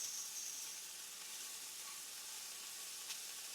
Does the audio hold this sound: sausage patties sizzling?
yes